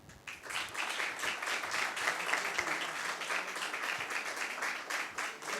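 An audience at a lecture applauding a group: several seconds of steady, moderately quiet clapping from a roomful of people that starts abruptly and carries on evenly.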